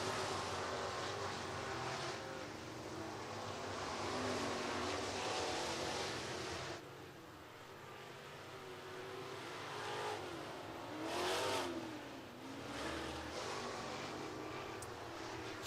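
Race cars roar through the final lap of a short-track event at Southern Raceway in Milton, Florida, a loud continuous engine drone swelling and fading as the pack passes, with a brief lull midway before another surge.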